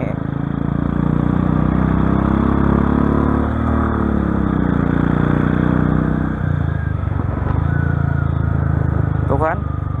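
A Royal Enfield 500 motorcycle ridden hard at full throttle through city traffic, its steady loud engine drone filling the scene with a shift in pitch partway through and a brief clatter near the end, speech mixed in.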